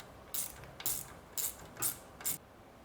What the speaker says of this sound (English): You just remove this bolt,